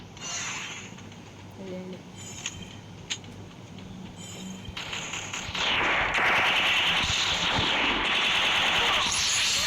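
Gunfire in a Counter-Strike style shooting video game, with bursts of automatic fire and single shots over steady background noise, growing louder and denser in the second half.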